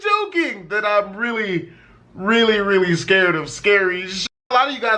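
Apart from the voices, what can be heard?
No everyday noises stand out.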